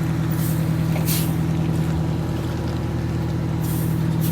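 The air brakes of a Wanderlodge bus give sharp hissing bursts, one early and one near the end, over the deep, steady rumble of the idling engine on a tight driving course.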